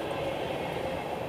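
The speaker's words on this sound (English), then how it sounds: "Look, a train!" A train rumbles past steadily in a dense, continuous roar, with no voices over it.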